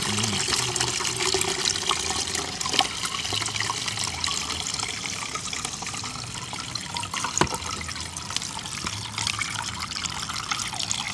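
Fresh fruit juice of mango, pineapple, carrot, June plum and ginger trickles and splashes steadily through a fine strainer. The liquid pours continuously at close range with no talking.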